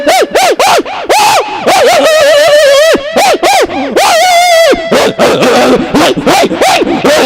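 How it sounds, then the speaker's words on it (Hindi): A dog barks loudly and close by in rapid repeated yelps and barks, with a few drawn-out whining howls in between, a continuous agitated burst. "वो कुत्ते की आवाज बढ़ती जाती है।"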